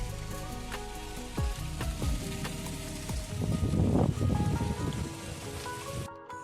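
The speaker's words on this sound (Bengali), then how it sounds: "তাদের বৃষ্টিও হচ্ছে।" Rain falling during an evening storm, a steady close hiss of drops with heavier gusts of downpour midway and a brief darker dip near the end; no voices.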